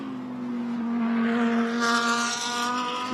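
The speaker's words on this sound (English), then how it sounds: "A couple of Reardon Racing Lamborghinis fighting one another" GT3 Lamborghini race cars battling on track at Sonoma, a loud sustained high-revving engine note that rises and swells as the cars pass close by, with no talk.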